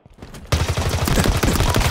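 Sustained rapid fire from the Skewer weapon in Halo Infinite, a loud, close, rattling burst that kicks in after a brief quiet lead-in and continues steadily to the end.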